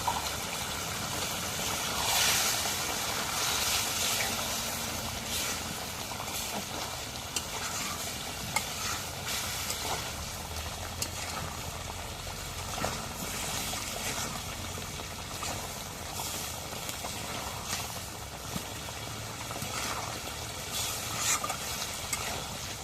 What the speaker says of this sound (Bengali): এখন একটু নাড়া দিয়ে দিই।